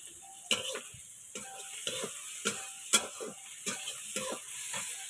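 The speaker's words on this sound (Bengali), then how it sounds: "ভাজা হয়ে গেছে প্রায় পেঁয়াজটা" Onion frying in a pan on a home stove, a faint continuous sizzle broken by regular clicks and scrapes of stirring spaced under a second apart, with no talking.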